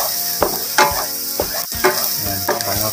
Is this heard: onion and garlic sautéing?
yes